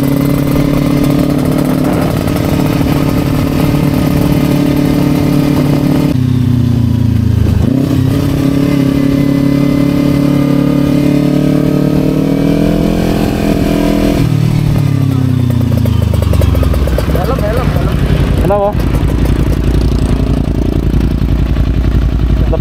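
Kawasaki Ninja 250 and Ninja RR motorcycles riding on a southern highway route, engine loud and close throughout, revving up and down through gear changes with wind rush under a brief voice.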